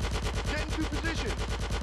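Rapid automatic gunfire from GTA San Andreas, a steady stream of evenly spaced loud bursts throughout, with faint background game sounds mixed in.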